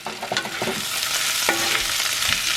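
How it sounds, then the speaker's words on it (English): Zucchini, peppers and onions hitting a hot pan, a loud bright sizzle with clattering and stirring over a short stretch, with no talking. "Now we're gonna dump our zucchini and peppers and onions all back in there."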